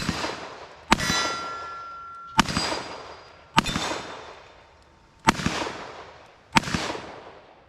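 Five sharp, loud shots from a Smith and Wesson Pre-model 10 revolver at a shooting range, spaced about a second or more apart, each with a ringing decay.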